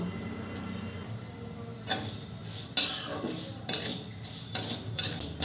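Moong dal is stirred and dry-roasted in a wok on a gas stove, with a quiet scraping hiss at first, then several sharp spatula scrapes and clinks against the metal at irregular intervals.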